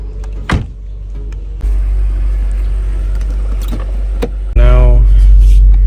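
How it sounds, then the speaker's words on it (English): Mercedes C55 car driving on a road, a steady low engine and road rumble that jumps louder partway through, with brief tonal whines and a rising engine note near the end; no one talks. "Now here we are in the C55, trying to move as quickly and safely as possible."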